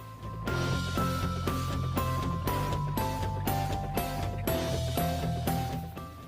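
An electric mixer beats cake batter with buttermilk at low speed, giving a close, steady whir broken by a regular rhythmic clatter of the beaters against the bowl.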